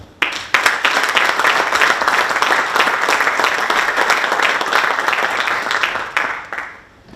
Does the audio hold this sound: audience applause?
yes